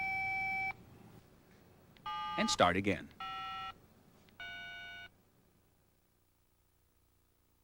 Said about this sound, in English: Your phone is programmed to unlock by pressing 1, 2, 3.